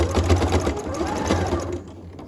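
A sewing machine stitches down the seam of a hoodie hood, a close, steady mechanical whir with a fast rhythmic chatter that slows and fades near the end.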